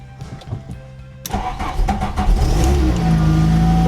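A Volkswagen Golf Mk1 cranks and fires up on a little choke, a few quiet clicks before the starter catches and the engine settles into a loud, steady idle close by.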